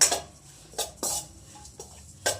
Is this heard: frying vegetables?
yes